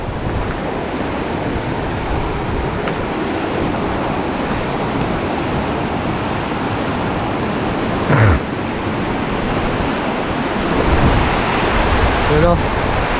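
Strong floodwater rushing during a typhoon, heard as a loud, unbroken roaring wash of water that fills the whole stretch, with a few faint thumps and some wind buffeting on the microphone.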